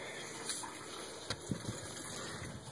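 A backyard fountain with a mucky, algae-filled basin runs water in a steady, fairly close trickle and gush, with a few soft knocks, and no talking.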